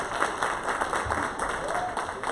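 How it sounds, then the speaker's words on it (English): Audience clapping for a speaker at a Hindu temple health event, a moderate, steady round of applause with a few individual claps standing out, heard at middling distance. "Can we have a huge round of applause for Uday Chakra?"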